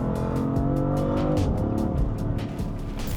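A stock BMW F80 M3 in sport mode roars loudly as its engine revs and climbs through rising, falling pitch, with rapid rhythmic pulsing and a strong throaty exhaust note close by.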